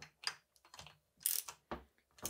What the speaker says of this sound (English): grab our wrench. I mean, our ratchet. Don't torque it down yet.